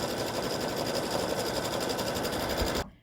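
An embroidery machine stitches a flip-flop design, running as a steady, dense mechanical whir with rapid needle pulses close by, then cutting off abruptly just before the end.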